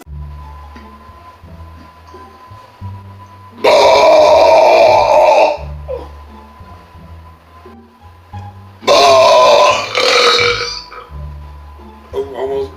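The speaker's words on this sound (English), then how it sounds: "I'm going to go ahead and give you some awesome belches." Loud belches from a man: two long, rough, drawn-out burps several seconds apart, close and forceful, with quieter grunts and breathing between them.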